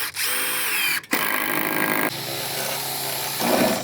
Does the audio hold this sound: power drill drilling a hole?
yes